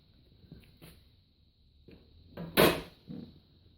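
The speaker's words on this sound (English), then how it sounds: "take my hammer, knock the spindle out" A hammer knocks the spindle out of a lawn tractor trailer: a few faint taps, then one loud, sharp metallic strike and a softer follow-up knock in a quiet workshop.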